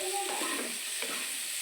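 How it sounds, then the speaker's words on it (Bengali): Spices with fenugreek, green chili, turmeric and ginger paste sautéing in a pan for a soybean curry, a steady soft sizzle with faint stirring scrapes, close and fairly quiet, no voices. "তো সাতলাচ্ছি এটাকে।"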